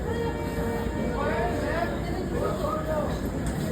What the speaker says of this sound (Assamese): আমাৰ ট্ৰেইন আহি গ'ল, 5 নম্বৰ প্লেটফৰ্ম।